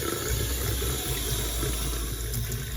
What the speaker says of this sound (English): You go to your kitchen sink or your bathroom sink and you're gonna relieve some pressure from the hot water.